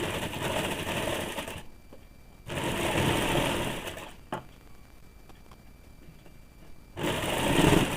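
A sewing machine stitches a folded hem on a woolen baby frock in three bursts of steady, fast whirring, separated by quiet pauses and a single sharp click.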